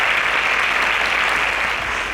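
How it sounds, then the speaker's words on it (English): Steady applause from a studio audience at a televised Kenyan student science competition, a dense continuous clapping that fills the whole moment without voices. "A round of applause for Samuel."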